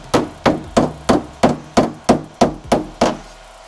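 Nine steady, evenly spaced hammer blows ring out on a cut metal fender tab of a Jeep Wrangler TJ/LJ, each loud and close with a short decay.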